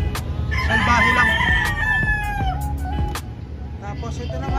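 A rooster at a small backyard breeding area crows loudly and close by in one long, wavering call, with other chickens clucking and a person talking in the background.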